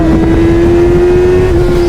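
A 2011 Honda Hornet 600 motorcycle engine drones at high, steady revs at full throttle with a strong buzzing tone, close and overpowering, with rushing wind noise underneath.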